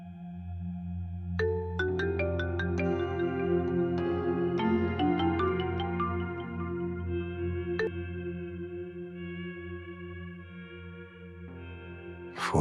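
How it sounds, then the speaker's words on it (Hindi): A melodic phone ringtone chimes with bright, plucked tones, a tinkling run of notes repeating at moderate volume, unanswered, and nothing else heard. "फोन नहीं उठा रही"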